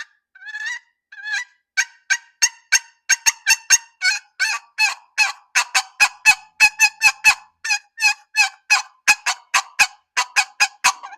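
A rapid series of loud, raspy honking calls from a friction turkey call, starting with a few yelps then building into a fast, steady run of sharp notes.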